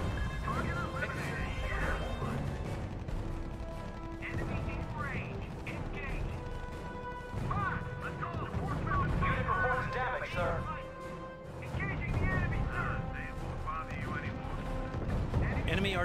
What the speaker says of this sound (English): artillery is pounding us from the beach, sir